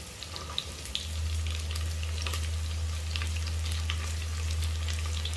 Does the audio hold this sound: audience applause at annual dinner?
no